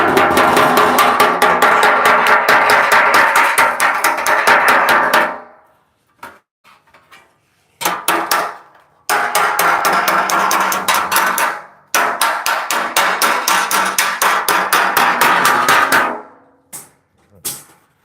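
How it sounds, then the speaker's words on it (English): Rapid, loud metallic hammering of steel over a steel dolly while shaping body panels on a 1938 Cadillac in a workshop, delivered in dense bursts broken by short pauses and a few isolated taps. "I think I might work this out with the dolly also. Steel dolly. It's gonna be loud."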